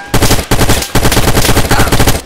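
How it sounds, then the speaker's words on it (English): Rapid automatic M4 rifle gunfire in a video game, loud and close, fired in several sustained bursts separated by brief pauses, with no voices over it. "Scared of my M4 because it's loud and annoying."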